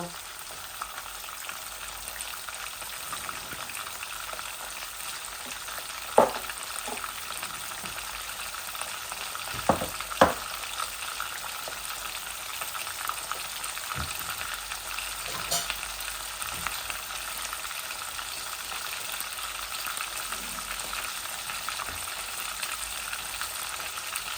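Fish frying in a pan for a Bangladeshi fish curry with potatoes, tomatoes and olives, a steady broadband sizzle with a few sharp pops and crackles throughout, close and continuous, no talking.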